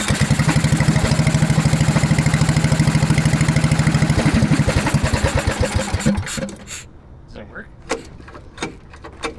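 A big block race go-kart engine fires up and chugs in a fast, loud, steady rhythm for several seconds, then drops to a rougher, uneven idle with sputters.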